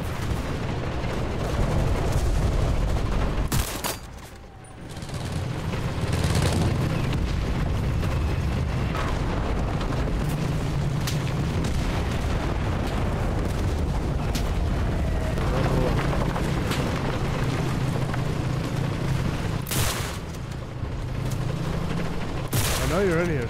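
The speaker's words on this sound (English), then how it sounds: "We're getting artillery." Booming artillery barrages in the war game Enlisted, heavy dull blasts recurring throughout alongside dense battlefield gunfire, loud and continuous with a brief lull near the start.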